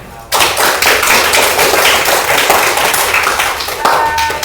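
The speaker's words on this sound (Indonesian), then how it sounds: "Sekali lagi tepuk tangan yang meriah" Schoolchildren in a classroom break into lively applause at the close of a lesson, a dense, steady patter of many hands starting abruptly and carrying on loud and close throughout.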